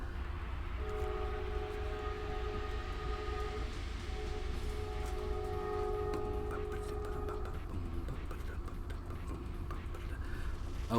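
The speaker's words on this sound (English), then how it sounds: "Sorry again, another train." A train passes close by with a steady heavy rumble and a sustained tonal horn or wheel squeal running through the first half, continuing as a constant loud roar throughout.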